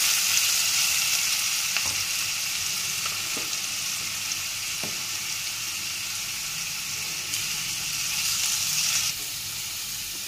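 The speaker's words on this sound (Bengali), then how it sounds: "এবার এটা লাল করে ভেজে নেব।" Potatoes fry in oil with turmeric in a pan, a steady hissing sizzle with a few sharp clicks and scrapes from stirring, close and alone.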